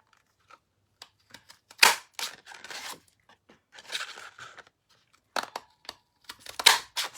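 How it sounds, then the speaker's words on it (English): A paper punch cuts through Highland Heather cardstock in a quiet crafting session, producing a few sharp, close crunching snaps separated by softer rustling and handling noises, with no talking. "We'll punch some in the Highland Heather as well."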